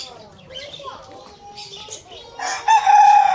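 A rooster crows loudly near the end at an eco resort with chickens, birds and pigeons, following a stretch of quieter background bird calls and distant voices.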